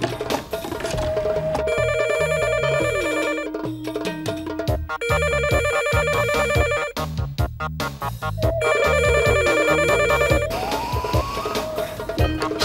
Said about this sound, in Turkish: Çalıyor çalıyor, açan yok.